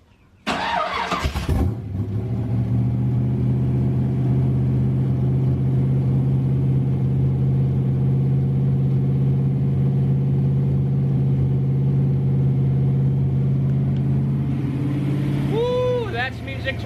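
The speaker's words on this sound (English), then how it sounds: "The old man here is going to fire it up, so we're going to get a cold start out of it" A 1932 Ford roadster engine cranks and fires on a cold start, then settles into a loud, steady, deep exhaust rumble heard up close from behind the car, holding for many seconds before a brief change near the end.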